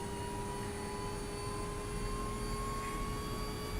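A Eurocopter H225 Super Puma helicopter's engine spools up in Microsoft Flight Simulator 2024, a steady, even turbine whine and hum that holds without a break and has no voices over it.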